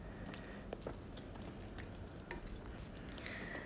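Martabak batter being stirred in a bowl, a soft steady wet scraping with light clicks of the utensil against the side, faint and continuous with no talk.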